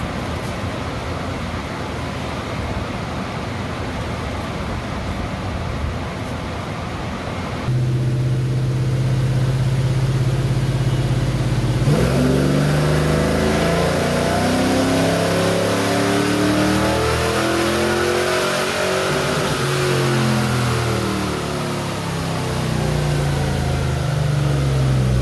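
An engine runs under load on a dyno during a tune, droning loud and steady, then climbing smoothly in pitch as revs rise from about 4,000 toward 6,000 RPM in one long continuous pull.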